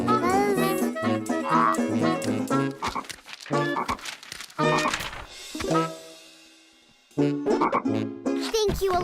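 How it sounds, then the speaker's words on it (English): A cartoon frog croaks in a quick run of repeated bouncy croaks, loud and close, mixed with children's voices and a few bright tinkling effects. "Francine, it's just a frog. A gross, icky, slimy, disgusting frog"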